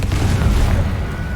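Confringo explosive spell blast from the Hogwarts Legacy video game: a deep, loud booming burst with a rumbling low end that holds steady for over a second, with no voices.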